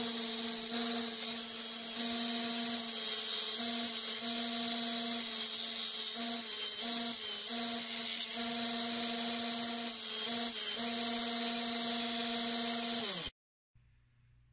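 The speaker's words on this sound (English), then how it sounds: "we're going to take that over to the belt sander and clean that up a little bit." Belt sander cleaning up the pins on a knife during a makeover, a steady high buzzing whine with strong harmonics, briefly wavering under load, running continuously before cutting off abruptly near the end.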